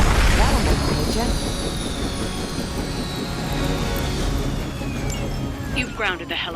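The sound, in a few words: helicopter in the video game Marvel's Midnight Suns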